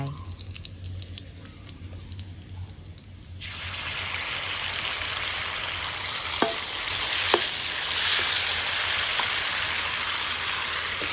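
Celery stir-fried with garlic in a hot pan, a quiet start that breaks into loud, steady sizzling once the celery hits the oil, with occasional scrapes and clicks of a utensil.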